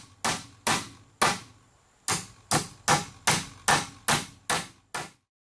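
Ten sharp, loud hammer blows strike a single-gang electrical box being fastened into place along a marked line, coming in quick bursts with a short pause after the third hit, no talk.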